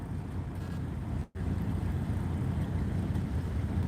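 Wind buffets a microphone outdoors in East Tawas, Michigan: a steady, loud, low rumbling roar that drops out for a split second, then resumes unbroken.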